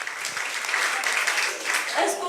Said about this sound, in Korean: 하나님께 영광의 박수를 돌리시길 바랍니다.